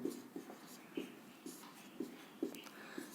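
A pen or chalk scratches out a table of figures during a class 8 maths lesson, a quiet rhythmic series of short strokes about every half second, close and faint.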